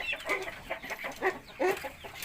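Chickens cluck in a coop after heavy rain and strong wind, with several soft, irregular clucks and calls from nearby birds and no talking.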